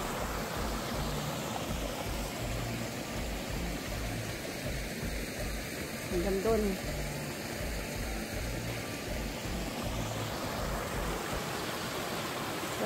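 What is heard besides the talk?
creek water flowing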